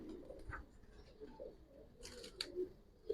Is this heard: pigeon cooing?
yes